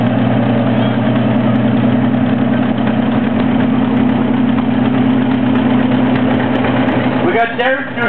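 A 1938 John Deere B tractor with a two-bottom John Deere plow idles at a small-town parade, its engine holding a steady, loud, low throb throughout, with a brief burst of other noise near the end.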